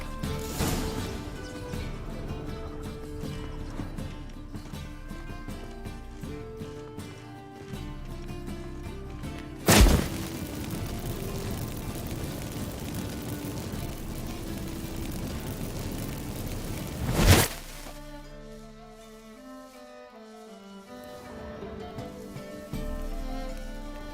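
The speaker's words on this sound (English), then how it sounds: "Get ready for some magic fireworks." Magic fireworks in The Witcher 3 video game: two sharp, loud bursts stand out over a steady bed of game music and ambience, the second followed by a quieter stretch.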